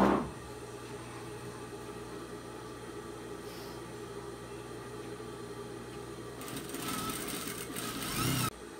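A sewing machine hums steadily while stitching along the neckline of a handmade Korean-style doll, running continuously at a moderate level and rising a little louder near the end before cutting off.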